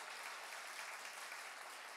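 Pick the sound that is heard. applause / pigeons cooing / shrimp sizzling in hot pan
applause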